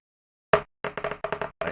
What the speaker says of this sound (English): that's the sound of me rolling dice there